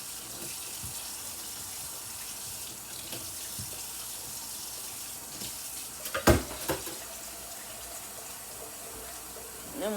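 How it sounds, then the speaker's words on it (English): Cold tap water runs steadily into a kitchen sink as food is rinsed under it, a continuous close splashing rush with a brief clatter partway through. "Cold water. Let's rinse them first, though,"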